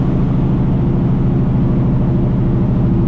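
A steady, loud low-pitched engine drone with a rapid pulsing rumble, continuous throughout, from a heavy truck's engine brake on a medium setting heard up close.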